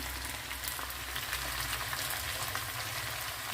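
Sliced potatoes frying in a pan with oil, a steady, close, even sizzle and crackle that runs unbroken throughout, with no voices.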